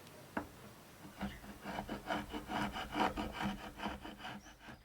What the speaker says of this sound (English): Let's go ahead and clean up all this glue squeeze out here.